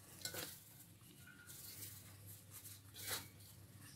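Radish, fenugreek and green chili are worked into maize flour dough by hand, producing quiet, soft rubbing swishes in two short bursts against a near-silent background.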